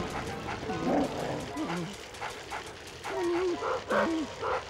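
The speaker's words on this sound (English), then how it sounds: "So there's a doggy there." A dog in the video game Luigi's Mansion lets out several short yipping barks in an irregular rhythm, heard over game sounds and a voice talking.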